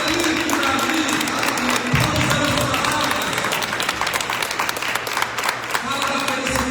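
A church congregation applauds during an evangelism sermon, a steady, full wash of clapping across the whole stretch with a sustained tonal voice or instrument underneath.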